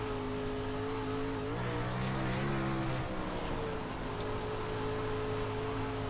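A race car engine from a dirt-track racing video game drones steadily as the throttle rolls on and off, the pitch shifting in one audible dip and rise midway, with continuous mid-level engine noise throughout.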